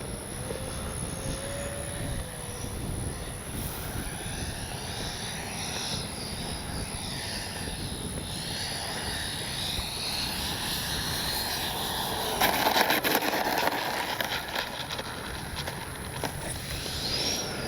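A small RC MiG-29 jet model with 64 mm ducted fans whines steadily overhead during a landing approach with gear down, a sustained high-pitched turbine hiss with a brief louder swell near the end; no talking.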